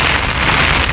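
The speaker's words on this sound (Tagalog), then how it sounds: "dadaan lang yung malakas na ulan" Heavy rain pours down outdoors during fishing in a steady, dense hiss, loud and continuous with no breaks.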